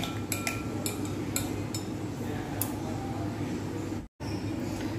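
A spoon mixes a barbecue chicken spice marinade in a bowl, producing repeated close metallic clinks and scraping that continue steadily, broken by a brief silence near the end.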